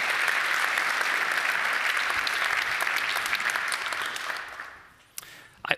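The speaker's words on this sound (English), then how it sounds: "A big applause for these four panel members." A large audience at the Wageningen University Dies Natalis 2022 ceremony applauds four panel members, with dense, loud clapping that holds steady for several seconds before fading out, followed by a few isolated claps.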